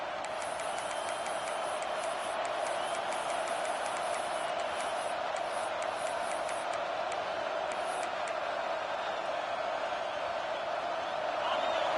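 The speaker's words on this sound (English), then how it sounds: "Decibels rising as the crowd gets behind this defense on third down." Stadium crowd cheering on third down in College Football 26, a dense continuous roar that stays loud and steady with scattered whistles and whoops on top, faint talk beneath.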